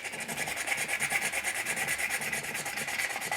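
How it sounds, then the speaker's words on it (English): Sandpaper rubs steadily over a 1/4 scale Xionart Spiderman model being smoothed before primer, a close, continuous scratchy hiss with a quick back-and-forth stroke rhythm. "today is all about sanding"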